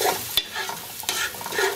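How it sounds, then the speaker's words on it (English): Golden-brown onions dusted with garlic powder are stirred in a pan over a low flame: a utensil scrapes in a few distinct strokes over a steady soft sizzle, and no one talks. "I am now going to add a little bit of garlic powder, and of course give it a good stir"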